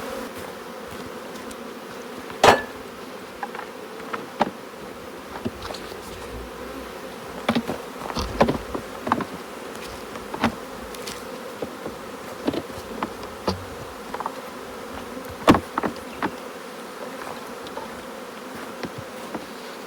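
Honey bees buzz steadily in a continuous hum around a hive, with occasional sharp knocks and clicks of honey super frames being handled nearby.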